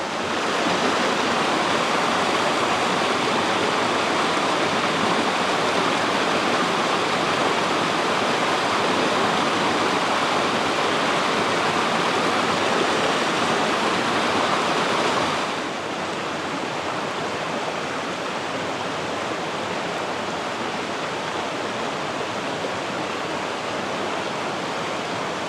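Pure mountain water rushes steadily in a forest stream in Wales, a dense, loud, continuous wash of broadband noise that drops slightly in level partway through and carries on without pause.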